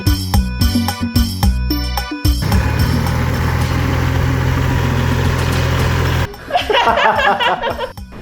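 A Kubota tractor engine runs steadily for about four seconds, a loud low rumble set between bursts of music and laughter.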